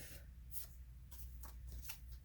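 A vellum card is opened and folded in half, giving a few soft, crisp papery rustles and creases in quick succession, close and quiet.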